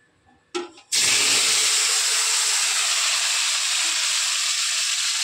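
An egg dropped into smoking-hot oil in a wok, coated in salt and turmeric, bursts into a loud, steady sizzle after a brief clatter and keeps hissing evenly and close.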